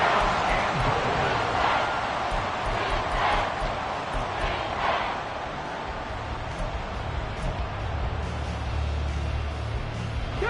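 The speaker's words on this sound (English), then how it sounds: "This crowd doing all they can." A stadium crowd in the Madden 24 football video game roars as a steady, dense wash of cheering under a commentator's voice during a goal-line series.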